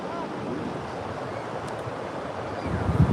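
Sea waves wash against the beach at Cox's Bazar, a broad, steady roar of surf mixed with wind buffeting, swelling slightly louder near the end.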